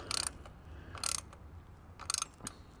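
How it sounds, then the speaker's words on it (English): Box-end 17 mm wrench tightening a K&N oil filter on a Honda Shadow 750 Aero motorcycle: three short bursts of quick metallic ratcheting clicks spaced about a second apart, close and fairly quiet, with no talking. "I can use these box end wrenches, 17 millimeter, and then I just give it a couple little snug turns"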